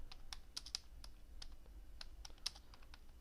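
Rapid, quiet clicking keystrokes on a computer keyboard while writing a C program in Dev C++. The taps come in an irregular run of light, crisp clicks over faint room hiss, with no talking.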